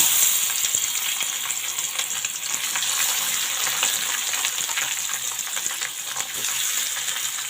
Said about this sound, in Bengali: একটা কড়াইতে তেল গরম করতে দিয়ে দিয়েছি। এখন এই মাছগুলো দিয়ে দিই।